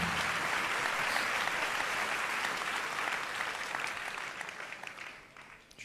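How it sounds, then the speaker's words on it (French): Applause from an audience at a HEAD 2022 fashion show, a sustained wash of many hands that tapers slowly toward the end. "On les applaudit encore une fois."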